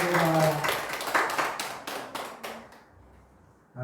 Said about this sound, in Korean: 자, 우리 박수로 우리 함께 찬양하겠습니다.